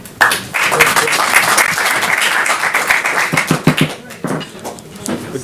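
Audience applause breaks out at a city planning commission meeting, a dense burst of clapping from many hands that runs steadily for about four seconds and then thins to a few scattered claps, with no talking over it.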